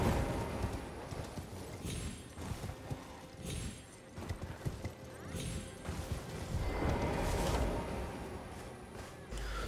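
Horse hooves clop in Elden Ring, an uneven run of soft thuds and clatters over a low ambient rumble, fairly close and steady across the stretch.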